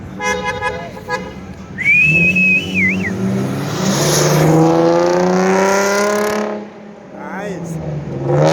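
A car drives past close by with a rising and falling engine drone and a short tonal toot, while a person talks over it.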